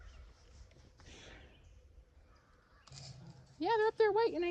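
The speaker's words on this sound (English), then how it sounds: "We said they're up there waiting. We were talking about the crows." Crows caw in the background on a farm during fence-line burning and corn planting, faint harsh calls with rustling, then a loud harmonic bird cry near the end.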